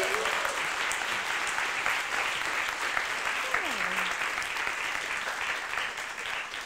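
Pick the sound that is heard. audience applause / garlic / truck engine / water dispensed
audience applause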